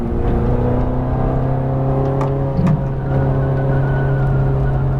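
Ferrari F430 Scuderia engine at Las Vegas Motor Speedway accelerating on track, a loud close-up sustained roar with steady harmonic tones and a brief bump near the middle.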